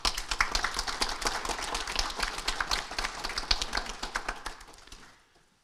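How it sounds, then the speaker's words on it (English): Audience at a college graduation ceremony applauding parents and families: a steady burst of many hands clapping that fades out near the end. "you might give them a round of applause"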